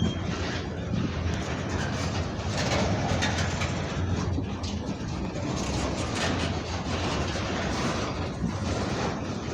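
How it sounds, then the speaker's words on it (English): A CN freight train rolls slowly past at Dorval, a loud continuous rumble with rhythmic wheel clatter over rail joints that holds steady the whole time, birds faintly audible behind it. "The train is going slow now"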